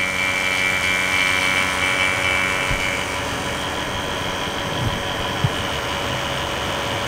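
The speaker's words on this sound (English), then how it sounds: "So right now I'm going to open both of these, turn on the pump" A vacuum pump runs steadily during an air conditioner installation, a continuous droning motor hum with a high whine that stays level and close, a few faint clicks near the end, with no talking.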